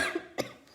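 A single short cough from a nearby speaker between phrases, a sharp burst standing alone in an otherwise quiet pause.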